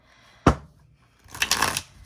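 Tarot cards being shuffled by hand, a sharp single snap of cards followed after a pause by a brief riffling flutter, close and fairly quiet with no talk.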